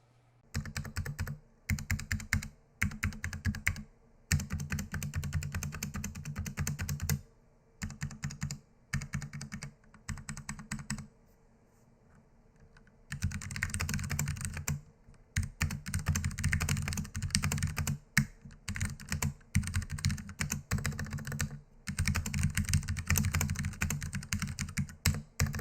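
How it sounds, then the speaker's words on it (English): Typing on a Ducky One 2 Mini Horizon 60% mechanical keyboard comes in fast continuous bursts of clacky keystrokes with short pauses between runs, close and clear with no voices. "Now, let's get to the type test."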